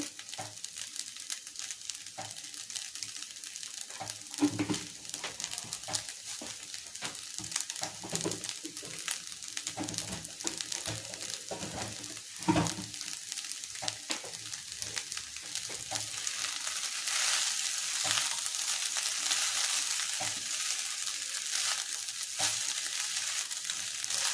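Fried rice sizzles in a pan as it is stir-fried, a continuous crackling hiss broken by the scrape and clatter of stirring, growing slightly fuller toward the end, with no talking.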